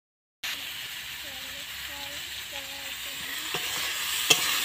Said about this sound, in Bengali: তো দেখো এটা বেশ আমার কষানো হয়ে গেছে